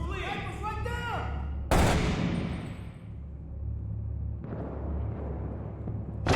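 Gunfire rings out in Six Days in Fallujah, a heavy nearby blast with a long rolling echo, then a fainter second volley, over a steady low rumble with a voice talking early on.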